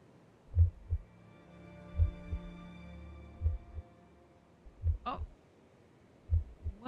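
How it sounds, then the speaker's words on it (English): Heartbeat sound effect in the video game Hindsight grows stronger, soft paired low thumps repeating at an uneven pace over a faint sustained musical drone. "Well, that heartbeat's getting stronger."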